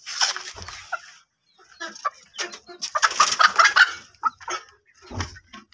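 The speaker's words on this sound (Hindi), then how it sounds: "ये मुर्गी डरने लगी है मुझे देखकर," A frightened hen clucking in agitated, uneven bursts near the microphone, with sharp cackles and short pauses between squawks.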